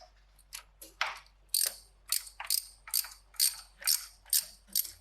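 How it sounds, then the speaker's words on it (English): A ratchet wrench clicks as it turns a spark plug into a Toyota FJ engine, close up, in about nine crisp bursts at a steady, even pace with no talking. "you can actually take the ratchet part off and just kind of turn"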